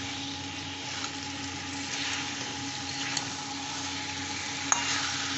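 Jackfruit and prawn masala sautéing in a pan, a steady low sizzle with a faint background hum and a few soft clicks, no speech.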